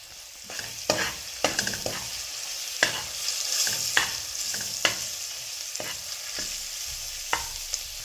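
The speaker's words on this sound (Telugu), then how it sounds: "అల్లం వెల్లుల్లి పేస్ట్ కొద్దిగా వేగనిద్దాము. ఇప్పుడైతే ఇందులోకి పసుపు వేసుకుందాం." Ginger garlic paste frying with turmeric in a pan, a steady sizzle under regular scraping stirs of a spoon, close and clear, no talking.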